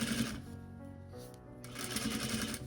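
A serger sewing machine stitches fabric with a fast, steady mechanical whir, briefly easing off in the middle before running at full speed again, close and fairly quiet.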